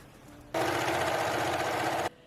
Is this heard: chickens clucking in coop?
no